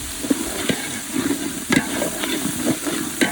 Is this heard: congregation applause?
no